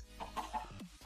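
Chickens in Minecraft cluck in a few short, close bursts, with a brief squawk near the end, loud and clear with no talking.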